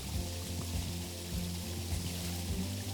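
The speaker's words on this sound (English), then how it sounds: "These waterfalls are around 20 to 25 feet high, depending on the water level, and are spring-fed by Fall Creek." Spring-fed waterfall about 20 to 25 feet high on Fall Creek in Texas, a steady continuous rush and pour of falling water with faint low rumbling beneath, no voices.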